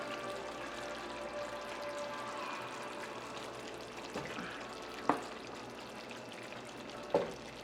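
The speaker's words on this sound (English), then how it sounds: "Okay, we'll add our rice there." Dry rice pours into a cooking pot as a soft, steady rushing hiss over faint kitchen background noise, with two brief clinks near the end.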